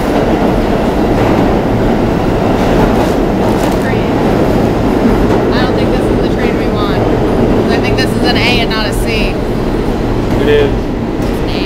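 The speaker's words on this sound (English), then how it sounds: "There's a train coming," A train rolls past at close range, a loud sustained rumble of wheels and cars with rhythmic clatter and occasional high squeals, continuous from start to end.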